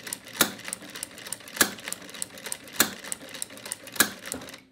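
An industrial sewing machine fitted with a ruffler presser foot runs steadily, with a fine rapid stitching chatter and sharp louder clacks about every 1.2 seconds as the ruffler blade advances.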